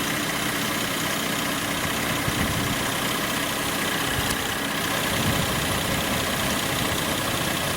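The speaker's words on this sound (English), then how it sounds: "As the pressure on the low side has risen, it's kicked on the compressor." A Mercedes GLE 350 (W166) idles steadily with its AC compressor kicked on during a refrigerant recharge, a close, constant low engine hum and drone running unbroken throughout.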